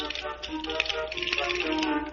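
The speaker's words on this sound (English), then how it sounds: "and castanets," Castanets click in an orchestral setting, a rapid rattling run of dry wooden taps that holds steady for about two seconds.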